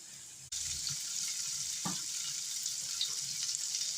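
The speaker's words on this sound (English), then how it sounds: "Now I've heated up my olive oil in a frying pan. I'm going to add my onion and celery." Onion and celery sizzle in heated olive oil in a frying pan, a steady close-up hiss with a faint stir partway through, starting after a brief quieter moment.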